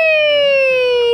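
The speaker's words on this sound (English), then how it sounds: "Police car." A toy police car siren wails loud and close in a steady, slightly falling electronic tone, held for about a second with no talk over it.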